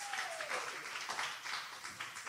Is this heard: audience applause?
yes